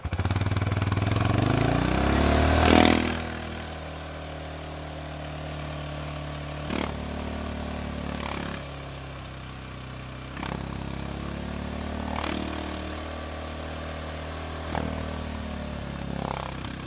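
ATV engine fitted with a Kolpin Stealth 2.0 quiet exhaust, held at about half throttle; a steady, muffled mid-pitched drone follows a brief louder rise, with a few faint clicks over the even hum.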